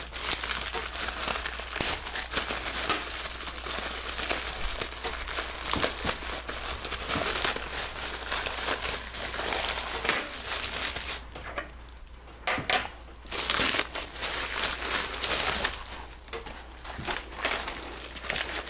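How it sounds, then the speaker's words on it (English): A head of iceberg lettuce being opened by hand in a kitchen: continuous close crinkling, tearing and rustling of leaves and wrapping, with a few light knocks, and no talking. "Now I'm going to open up my iceberg lettuce."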